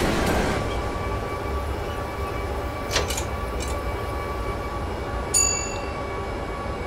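A DB Cargo freight train in a train simulator video game rumbles past with steady rolling noise, thin metallic squeals and a few sharp clanks, sounding close and continuous without voices.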